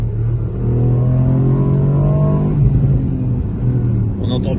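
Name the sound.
Ford Puma ST engine revving, exhaust crackle on gear change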